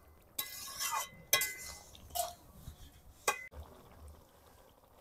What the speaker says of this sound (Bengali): চিনিটা দিয়ে একটু নেড়ে চেড়ে আমি নামিয়ে দেব।